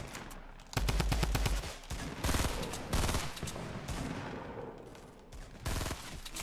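A Tommy gun fires in rapid automatic bursts during a Fortnite Battle Royale match, loud and close. Several sustained volleys of rattling shots are separated by brief pauses, with no talking.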